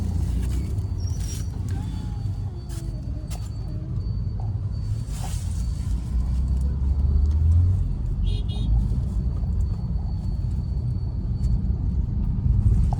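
An older Maruti Suzuki Baleno hatchback engine runs steadily with a low, slightly growling rumble heard from inside the car, constant and fairly loud throughout.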